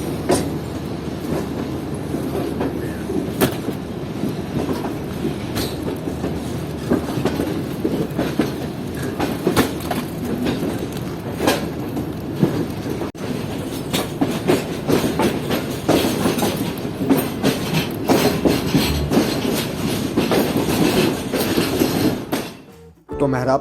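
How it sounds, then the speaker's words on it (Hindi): The Khyber Mail passenger train rolls steadily along the tracks toward Nawabshah station, a continuous loud rumble with rhythmic wheel clatter heard from inside the carriage, ending in an abrupt drop. "फिर हमारी ट्रेन अपने अगले स्टॉप यानी कि नवाबशाह रेलवे स्टेशन की तरफ चलने लगी"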